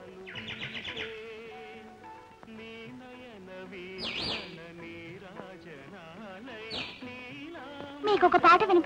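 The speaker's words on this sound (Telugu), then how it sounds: "అది అడవి చిలుకల శబ్దం" Wild parrots in a forest give short, high chirping calls at a few moments, heard over steady music with sustained tones and a louder burst near the end.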